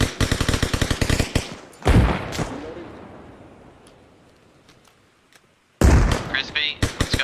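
Rapid bursts of automatic gunfire in the military game Arma Reforger, loud and close, with a heavy blast echoing and fading into near silence before another loud volley breaks out.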